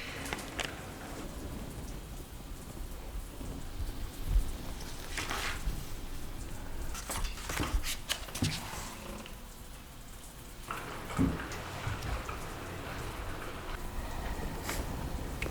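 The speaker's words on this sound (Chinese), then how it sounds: "下雨了。" Steady rain falls through a quiet night scene in a Taiwanese school drama, a continuous soft hiss with a few brief louder spatters and bumps, with no voices.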